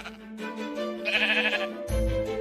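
Sheep in Minecraft bleating in a couple of wavering, nasal calls, close and clear, followed by a low thud near the end.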